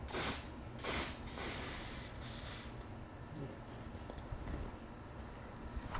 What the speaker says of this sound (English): This is just a can of a WD-40 brand white lithium.